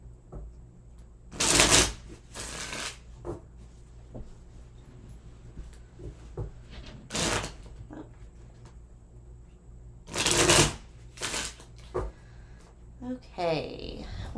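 Tarot cards riffle and snap in several loud, separate shuffling bursts, close by, between quieter stretches with faint shuffling and handling noises.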